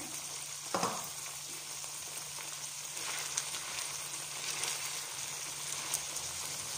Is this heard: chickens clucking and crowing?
no